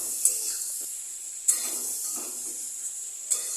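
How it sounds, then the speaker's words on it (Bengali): Snake gourd frying in a pan as it is stirred, with a steady quiet sizzle and a few soft scrapes and clinks of the spoon against the pan. "এবার ভালো করে নেড়ে চেড়ে নিচ্ছি।"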